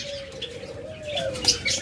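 A rare dove, one of a pair of caged birds kept for sale, gives a steady low cooing call while wings flutter briefly, close by over a faint background of chirps from other birds.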